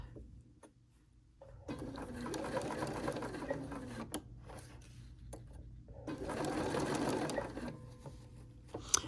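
A Bernina sewing machine stitches fabric in two bursts of steady whirring, each lasting a couple of seconds, separated by a quiet pause with a few faint clicks.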